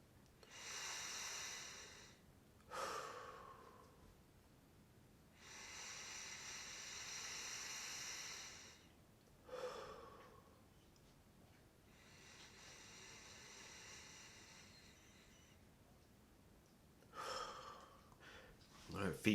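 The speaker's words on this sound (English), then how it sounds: "We're going to take 3 deep breaths." Deep breaths drawn during a guided prayer, three long airy inhales and exhales spaced evenly apart, close and soft, with a faint voice between them.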